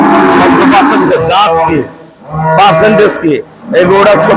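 Dairy cows at a cattle market moo in several long, loud, drawn-out calls close by, with someone talking over them throughout.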